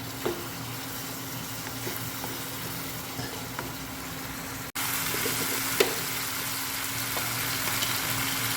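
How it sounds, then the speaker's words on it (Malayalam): Two chopped tomatoes sizzle and fry in a pan of pork curry, a steady close crackling hiss with an occasional stir and a brief break midway. "ഇതിലേക്ക് തക്കാളി, 2 തക്കാളി അരിഞ്ഞത് ചേർക്കാം."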